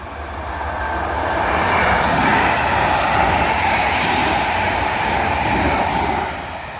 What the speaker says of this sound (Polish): O, jeszcze coś jedzie z drugiej strony, zaraz zobaczymy co. Właśnie Intercity Olsztyn-Kraków.